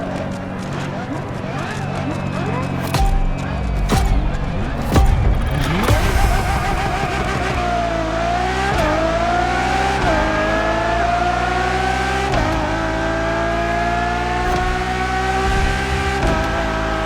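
Ferrari Enzo supercar engine in a racing video game, revving hard and climbing through gears in long rising whines, loud and close, with someone narrating over it.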